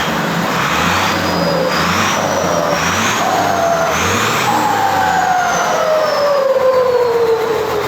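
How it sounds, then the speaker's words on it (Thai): A Mitsubishi 195 truck fitted with a large turbo kit revs repeatedly, its engine surging in pulses with a rising and falling turbo whistle, loud and close, ending in a long descending whine. "เอาเร่งเร่งเร่งเร่งไปเลย"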